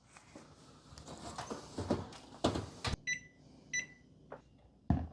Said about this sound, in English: Let's go ahead and get these in the oven, 350 for 5 minutes